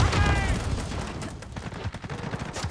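An AN-94 assault rifle fired in Call of Duty: Modern Warfare, heard as rapid, loud bursts of gunfire that crackle on and off for a few seconds, with a brief pause mid-clip and no talking.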